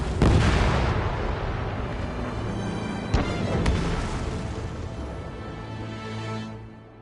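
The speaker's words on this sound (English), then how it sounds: "Gunfire and the roar of jets echoing through the streets." Ace Combat 7 video game combat over a city: continuous dense rumble of gunfire and explosions with jet roar, plus a couple of sharp bursts in the middle, loud throughout.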